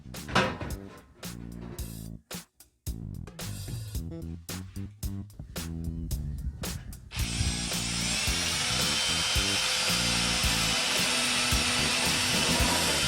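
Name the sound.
power drill drilling a small pilot hole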